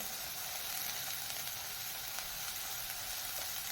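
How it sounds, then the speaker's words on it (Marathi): Dry shrimp masala base of onion, chili and tomato sautéing in hot oil, a steady, even sizzle and fry with no pauses. "सर्व साहित्य आपण तेलावर छान परतून घेऊया"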